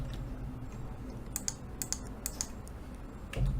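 Typing on a computer keyboard while entering code in a PySide6 application, a short run of close, crisp key clicks in small clustered bursts, with no talking.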